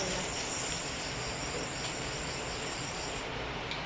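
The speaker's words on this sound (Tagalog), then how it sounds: "Ang ingay ng kuliglig eh." Crickets chirp in a dense, continuous high trill through an afternoon outdoors, steady and fairly prominent with no voices over it.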